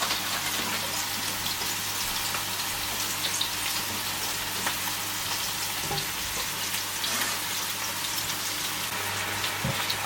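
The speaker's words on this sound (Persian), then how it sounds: "آبی که گذاشتم داره میجوشه و الان میخوام برنج رو بهش اضافه کنم" Rice added to a pot of boiling water for saffron lentil rice (adas polo): a dense, even bubbling hiss that holds steady throughout, with faint scattered ticks and no voices.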